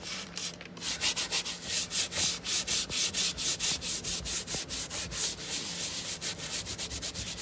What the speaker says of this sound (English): we're going to give this another quick scrub on the base